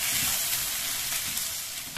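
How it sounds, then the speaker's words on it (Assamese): Chopped onions fry gently over a low gas flame, producing a constant close hissing sizzle that fades slightly near the end, with no voices. "গেছৰ ফ্লেমটো কমাই কম জুইত এইখিনি ভাজি থাকিম"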